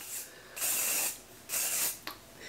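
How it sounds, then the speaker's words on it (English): Hair spray from a can misted through hair in bursts: two long hissing sprays and a brief final puff, close and fairly soft, with no talk. "I'm just gonna spray this throughout my hair"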